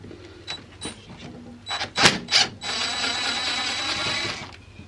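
A tool loosens the nut on the ground post of a water-cooled alternator during refurbishment, giving a few sharp metallic clicks and ratchet bursts followed by a sustained buzzing whir, fairly close and quiet overall.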